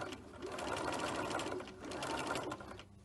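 A sewing machine stitches fabric right along a fold, its motor humming in a close, steady run with a brief slowdown midway before picking up again.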